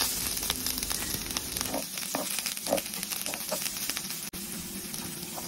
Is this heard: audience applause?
no